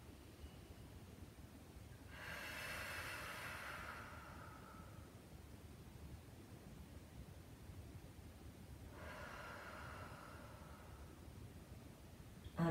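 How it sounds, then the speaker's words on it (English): Two slow, soft breaths, each a long hiss lasting a couple of seconds, taken during a lower back stretching exercise in a quiet room, faint and close. "let's just take a couple more deep breaths here"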